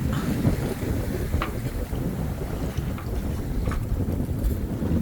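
A sailboat runs under full sail in the wind off the Var coast, with steady broadband wind and water rush filling the whole stretch and no talk.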